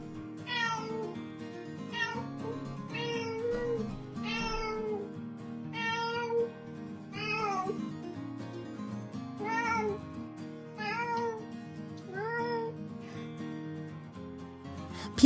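Ray, a cat born without eyes, meows over and over at close range in a steady run of drawn-out, slightly wavering calls that sound alone against a quiet room.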